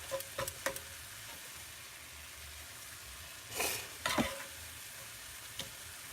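Ground sausage meat with sausage seasonings fries quietly in a pan under a steady low sizzle, with a few short scraping stirs near the start and a louder burst of stirring in the middle.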